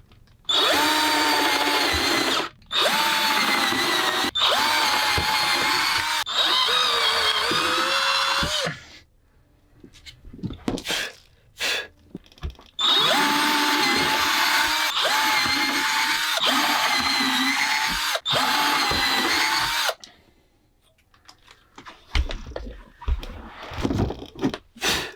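An electric power drill whirs loudly and close while working on an electric longboard, running in long sustained bursts separated by short stops, quiet handling noises and a few clicks.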